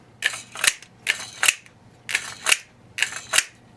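Mechanical clicks and clacks from an H&K USP Tactical pistol and its magazine, four evenly spaced pairs of sharp metallic snaps, close and crisp against a quiet background with no talk.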